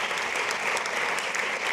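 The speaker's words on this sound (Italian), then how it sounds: "Fatemi un applauso" An audience at a live stand-up comedy show breaks into steady, full applause, with many hands clapping at once in a brief, dense burst.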